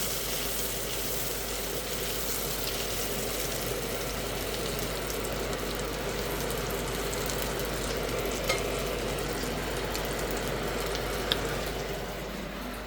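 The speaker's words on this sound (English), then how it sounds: "Deglaze that pan, get all those nice flavorful crispy bits up." Sizzling pan being deglazed while crispy bits are scraped from the bottom for Pacific fusion onigiri, a steady loud hiss with occasional scraping and stirring clinks throughout.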